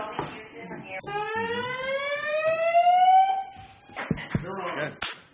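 A fire alarm sounds in a TV news studio, a loud rising electronic tone holding for about three seconds, with people talking before and after it.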